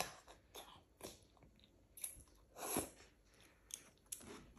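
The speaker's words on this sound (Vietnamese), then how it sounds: "Con cắn ra, con lấy răng con cắn ra." Instant noodles are bitten and chewed close to the microphone, with soft irregular crunches and mouth sounds spread across a few seconds at low volume.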